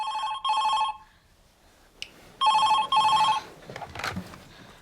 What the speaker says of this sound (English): the phone ringing at some point